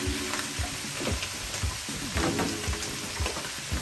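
Green beans hitting a hot pan in a one-pan balsamic chicken and potato dish, a steady crackling sizzle with occasional stirring scrapes and clatters, close and continuous with no talking.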